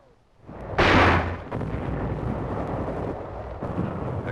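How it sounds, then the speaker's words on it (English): A captured Japanese knee mortar fires once in a loud close blast, then a rumbling aftermath of continuing battlefield noise and distant gunfire persists. "Our troops employ a captured Jap knee mortar."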